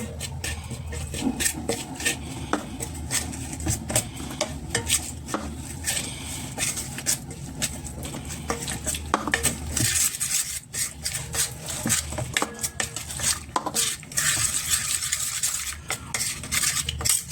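A spoon mixes ginger garlic paste into cauliflower pieces for gobi manchurian in a bowl, giving a steady run of close, gritty scraping and wet squelching strokes with occasional sharper clinks against the dish.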